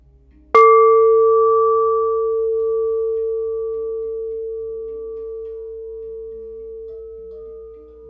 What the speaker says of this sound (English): this is a crystal singing bowl